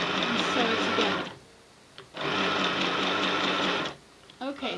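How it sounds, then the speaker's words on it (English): A sewing machine stitches rag rug strips together in two sustained bursts of fast whirring, with a pause between them and a brief quiet tail, close and clear; a voice speaks at moments. "I want to start sewing these together into one long strip"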